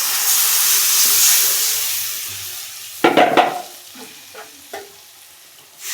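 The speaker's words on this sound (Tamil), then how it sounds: "இப்போ புளி தண்ணியை ஊற்றிக்கிறேன்" Steady steamy sizzle of tamarind water hitting a hot pan of onion relish fades down, followed by a few stirring scrapes and clinks.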